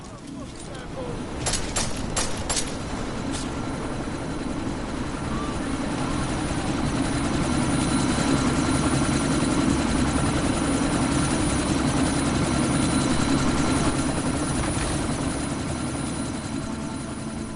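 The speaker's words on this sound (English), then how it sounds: "That chopper's about to take off!" Helicopter in a PS4 video game, a loud steady rotor and engine roar that holds for the whole stretch, with a few sharp clicks near the start.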